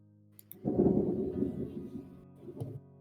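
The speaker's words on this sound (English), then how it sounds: "Thunder noises." A low rumbling thunder sound effect swells and rolls for about two seconds, with a shorter second rumble near the end, fairly quiet overall, heard during a tabletop game session.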